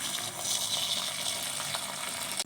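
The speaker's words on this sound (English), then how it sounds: "And turn on the tap." Tap water runs steadily into a pot set up for soaking hibiscus flowers for Zobo, a continuous broadband gush heard close and alone for the full stretch.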